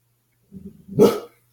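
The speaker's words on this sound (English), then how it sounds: "excuse the dog barking." A dog gives a low, rumbling grumble, then a single loud, sharp bark close by, and the sound quickly stops.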